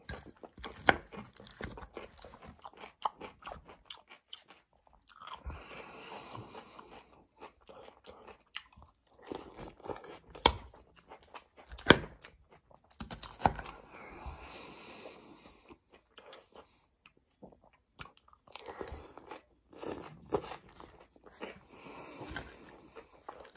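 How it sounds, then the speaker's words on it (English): A salad being chewed up close, with irregular crisp crunches and bites, soft wet mouth sounds and brief pauses between mouthfuls. "They're eating a salad today."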